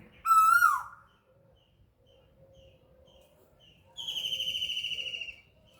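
Owl calling near a home, a single loud descending hoot at the start, then a longer wavering high call a few seconds later, with faint insect or cricket noise in the background.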